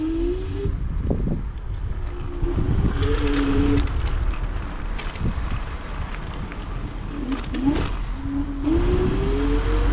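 A 5600-watt electric scooter rides fast through city streets, with steady wind rush buffeting the microphone and a rising whine from the motor that swells and repeats as it accelerates.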